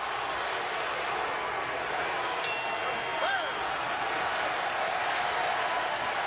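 An arena crowd at a boxing match in Washington, D.C. roars and applauds in a steady wash of distant noise, with a brief clink partway through and a commentator talking over it.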